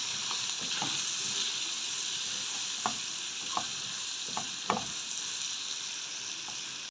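Frying onions seasoned with salt, black pepper and cumin are stirred in a pan, giving a steady loud sizzle with a few scraping strokes of the spoon clicking through it.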